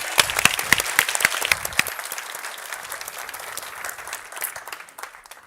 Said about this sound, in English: A big applause for Elliot.